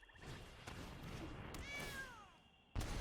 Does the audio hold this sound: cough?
no